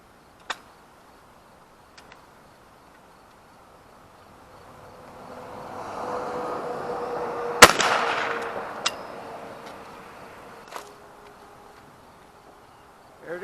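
A single 20 gauge shotgun blast, fired from the underbarrel with Kent Fast Steel shot at a pattern target 32 yards away outdoors, stands out sharply against a low wind-like rush, with a few faint clicks around it.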